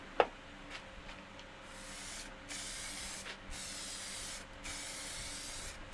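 A third coat of crackle glaze finish goes on in long hissing spray bursts, several in a row with short gaps, after a sharp click at the start, in a quiet room.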